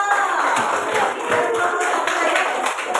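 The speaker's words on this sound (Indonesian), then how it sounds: "tepuk tangan dulu untuk nomor 2" Classroom applause from students for a group presenting during a school physical education lesson on contagious and non-contagious diseases, a steady burst of many small hands clapping close by for about three seconds.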